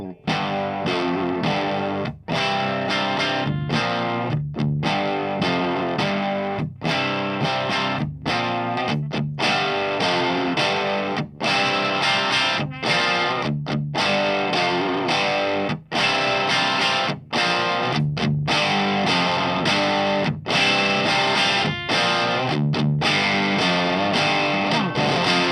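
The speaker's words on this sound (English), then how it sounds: "I'm going to play all 3 channels now and you'll hear the difference when I switch" Electric guitar played through a 1974 Hiwatt amplifier, heavily driven and distorted, strummed in steady rhythmic chords for a long stretch, loud and close, with tone shifts as the amplifier channels are switched; no talking.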